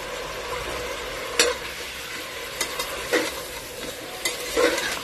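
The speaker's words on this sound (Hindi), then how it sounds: "थोड़ी देर हम भून लेंगे इसको अदरक लहसुन के साथ" Steady sizzling of mutton frying with ginger-garlic paste in a pot, with occasional scraping stirs against the metal, close and fairly loud, no voices.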